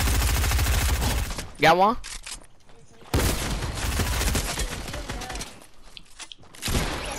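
Rapid Fortnite gunfire crackles in dense bursts, separated by a short lull, while players talk excitedly over the shooting.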